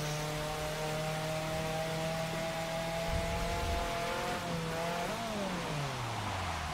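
A car spinning its wheels while drifting in the rain in a video game, a steady droning engine whine that holds pitch then bends and shifts near the end, loud and continuous with wet road hiss and no talk.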